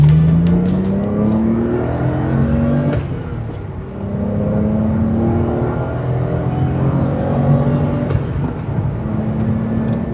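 A BMW E31 850i with a V12 engine accelerates on the road, its smooth engine note rising steadily through the gears, a brief dip at a shift, then climbing again, sustained and close throughout.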